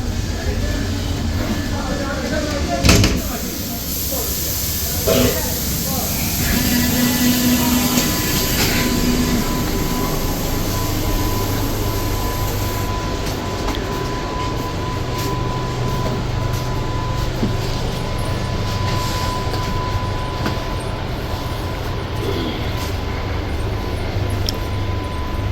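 Vande Bharat Express 22348 from Patna to Howrah running, a steady close rumble of the moving train heard from inside the coach, with faint track noise and occasional clicks throughout.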